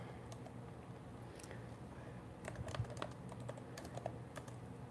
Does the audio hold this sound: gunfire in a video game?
no